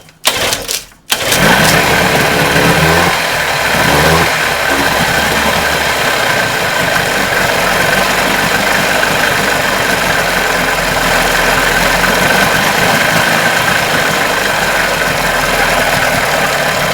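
A Johnson outboard boat motor is pull-started, catches after a brief sputter, and settles into a loud, steady idle with a continuous rumbling drone that runs unbroken to the end.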